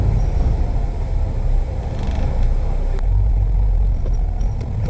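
A Singapore public bus on service 970 rumbles along the road, a steady, loud low engine drone with road noise heard from on board, continuous throughout with a faint brief click partway through.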